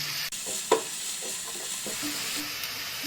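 Onions and garlic sizzle steadily in a hot pan over low-medium heat while a spoon scrapes and stirs, with a sharp clack near the start.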